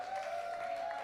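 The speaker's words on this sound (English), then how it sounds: "can we have a big round of applause for Hayley FISHBERGER doing such an amazing job" Audience applause for a comedy act at a live show at The Bedford, a short, fairly soft wash of clapping under a steady held tone.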